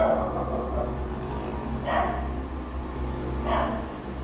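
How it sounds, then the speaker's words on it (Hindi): Dogs bark outdoors near a shrine area, three spaced, fairly faint barks rising over a steady low background hum. "आप कुत्तों की आवाज़ें सुन रहे होंगे"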